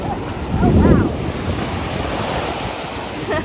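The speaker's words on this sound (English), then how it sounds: "It's the beach." Ocean waves breaking on a windy beach in Mexico, one surge washing in close and loud, with heavy wind buffeting the microphone throughout.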